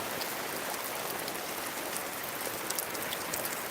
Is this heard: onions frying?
no